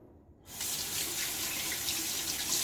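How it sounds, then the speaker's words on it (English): Tap water runs steadily into a sink for mixing shaving lather, starting abruptly after a brief quiet moment and continuing as a close, even rush. "Let's put a little bit more water in."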